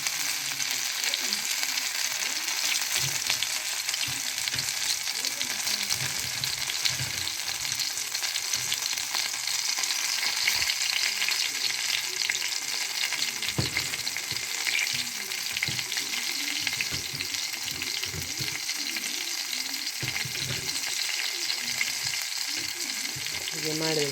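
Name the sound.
bangude mackerel tawa-frying in rice flour on low flame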